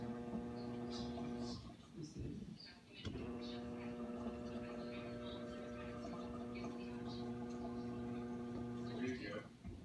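A GE dishwasher drains water during a full cycle, giving a steady low electrical hum and pump drone that runs throughout with brief dips. A person talks quietly over it.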